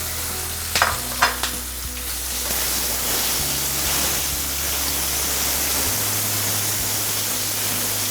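Pointed gourd (parwal) and potatoes hit a hot pan with a few clattering knocks, then settle into a loud, steady, even sizzle.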